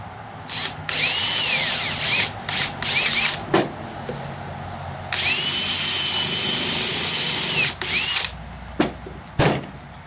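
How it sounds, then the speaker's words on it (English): A power drill pre-drilling wood for screws, whirring in several bursts, short pulses then a long steady run, close and loud, with brief clunks and pauses between. "I'll pre-drill it"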